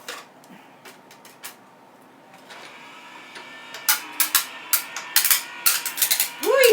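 A large butterfly die pressed through paper in a manual die cutting machine, with close mechanical creaking that builds into a quickening series of sharp cracks and snaps.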